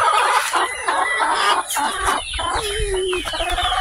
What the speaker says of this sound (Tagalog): Papakain tayo ng ating mga alagang manok, na sisiyo, pabo.